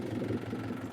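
Tractor engine running steadily while ploughing, a low, even diesel rumble with a slight mid-range drone and faint vibration, close and continuous for about a second, with no talk.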